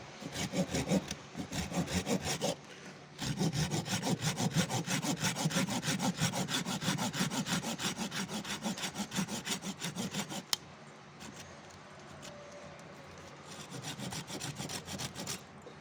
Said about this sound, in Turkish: Buradan aşı vuracağım alanı kesiyorum